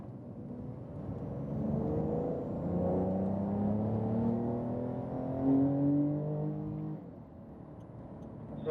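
A car accelerates hard out of a turn on a cone-marked driving course, its engine note rising steadily in pitch and loudness, then easing off and building again, heard from inside the car with a muffled cabin drone.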